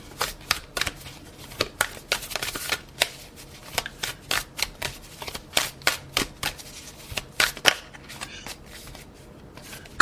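Tarot cards being shuffled by hand in rapid, uneven bursts of crisp riffling and slapping, close and clear with no talking.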